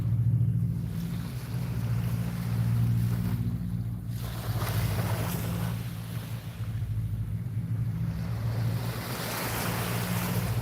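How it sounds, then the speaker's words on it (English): Slowed-down ocean waves crashing on a shore, a deep, heavy, continuous rumble and wash with slow swelling surges, fairly loud with no voices. "the waves crashing in slow motion don't sound real good"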